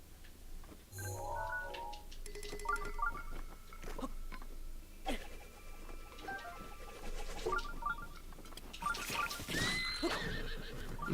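A horse in the video game Zelda Breath of the Wild lets out a loud whinny near the end, amid clopping hooves, ticking game effects and busy background sounds.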